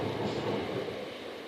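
A British Rail Class 465 electric train rumbles past on the Brighton main line at Brockley, a steady broad roar at moderate distance that fades slightly toward the end.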